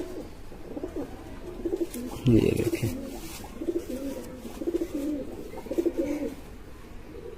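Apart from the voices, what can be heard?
pigeons cooing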